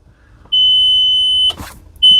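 A vehicle's sharp, loud electronic beep sounds while a speaker is plugged in: one long steady tone, a short rustle, then the same tone starting again, with no talking.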